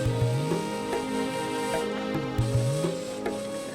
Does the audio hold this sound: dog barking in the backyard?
no